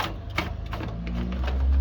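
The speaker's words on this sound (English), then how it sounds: "the drain pump is making a lot of noise" A noisy drain pump with a loose propeller in an LG washing machine hums with a low drone while irregular rattling clicks tap over it, building slightly louder toward the end.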